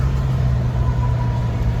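A CSX freight train's distributed power locomotive passing during a snowstorm, a steady low diesel engine rumble with a faint tonal whine, close and continuous.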